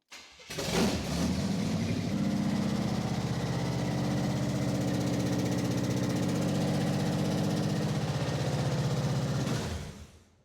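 A Cadillac 500 V8, just swapped in, fires up for its first start and settles into a loud, steady rumbling idle close by before cutting off.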